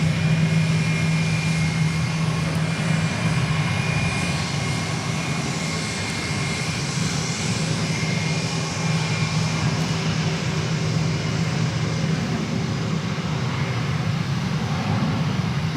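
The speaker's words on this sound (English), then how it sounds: "What you just saw, or what you're seeing there, is flight 407 going to Phoenix, Arizona, an Airbus A321" An Airbus A321 airliner takes off at DFW Airport, a loud, steady jet engine roar holding strong throughout with no one speaking.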